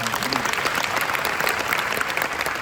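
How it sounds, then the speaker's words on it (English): A conference audience at Thrive 2025 bursts into applause, a dense, even patter of many hands clapping at steady loudness, with a faint voice near the start. "Clap your hands for that, everybody."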